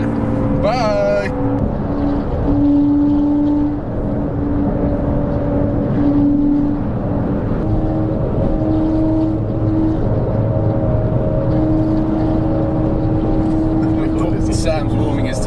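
A Lamborghini engine revs steadily while its tyres are warmed up, a loud continuous drone with rising and falling pitch that stays close and fills the scene, with no speech over it.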